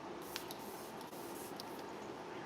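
A spray bottle hisses in a soft, continuous mist, with a few faint clicks and rustles scattered through the quiet spray.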